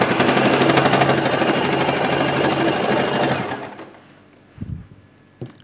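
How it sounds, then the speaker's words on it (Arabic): Sewing machine stitching fabric while making bridal trousers, a loud steady rapid rattle of the needle running continuously for over three seconds, then winding down and stopping, followed by a couple of faint clicks. "شويه ونبدا الخياطه"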